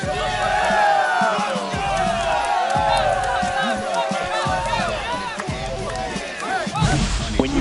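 A home crowd cheering after a walk-off extra-innings home run in the baseball video game MLB The Show 25, a sustained roar of stadium noise under a commentator's voice.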